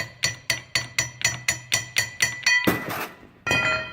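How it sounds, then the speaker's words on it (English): Steel hammer strikes ring out in a steady quick rhythm, about ten sharp metallic blows close by, driving a pin out of a car brake caliper, ending in a harsher clanking burst. "I can just take a hammer now, and instead of using the wedge, I can just hammer this way and be able to drive the pin out"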